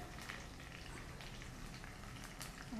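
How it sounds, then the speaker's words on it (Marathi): Curry leaves sizzle in hot tempering oil for a desi tadka on jowar noodles, giving a steady close crackling hiss throughout without talk. "आणि 3-4 कढीपत्ते टाकायचे"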